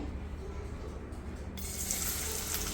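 Onions dropped into hot oil in a pan for a peas and cabbage masala palya, a steady broadband sizzle that grows louder and brighter partway through, close and continuous with no talking.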